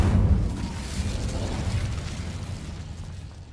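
Incendio fire spell blast in a Harry Potter video game, a single loud whooshing burst that hits at once and then fades into a rumbling roar over a few seconds.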